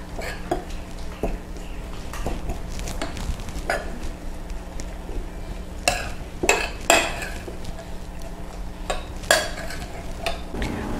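A utensil stirs cocoa butter into a coffee and cacao body scrub warming over heat, making soft scraping swirls and light clinks against the pan. A faint sizzle-like hiss sits underneath and no one talks.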